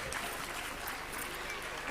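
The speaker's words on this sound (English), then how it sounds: "Please give them a big round of applause." Audience applause in a school auditorium after a song performance at a high school event, a dense, even wash of clapping that holds at moderate volume throughout.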